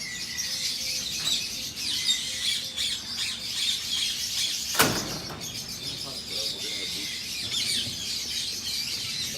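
A flock of rescued lovebirds squawks and chirps continuously at moderate distance, shrill calls overlapping throughout, with one sharp knock or door-like thud partway through and faint handling noises underneath.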